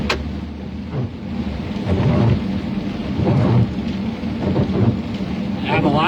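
Thunderstorm at night during a storm chase with hail, steady heavy rain drumming close by while repeated low rumbles of thunder roll through, no speech.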